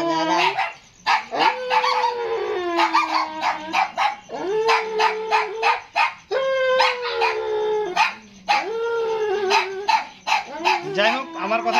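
Several native street dogs bark, yip and howl in rapid overlapping bursts, loud and close, with pitched whining calls that rise and fall continuously throughout.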